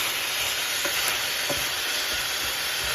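Mince beef stirred and frying in a pot with salt added, a continuous close sizzle and hiss with occasional soft scraping strokes, no voices.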